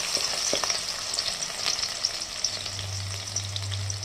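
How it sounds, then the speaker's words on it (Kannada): Green chillies frying in oil in a pan give a steady, close sizzle and crackle with a few soft clicks, and a low hum joins in toward the end. "ಇವಾಗ ಮೆಣಸಿನ್ಕಾಯಿನ ಎಣ್ಣೆ ಚೆನ್ನಾಗಿ ಫ್ರೈ ಮಾಡ್ಕೊಳ್ಳಿ"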